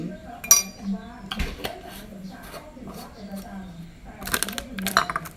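A metal spoon clinks against a cup or dish while a scoop of collagen powder is added, several sharp, close taps scattered through the clip, with someone talking throughout.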